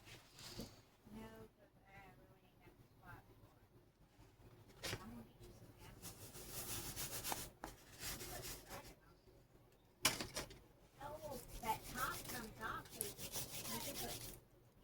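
Wet, salted hands rubbing and pressing cooked rice into onigiri, a close scrubbing, squishing friction in uneven bursts, with a person talking over it at times.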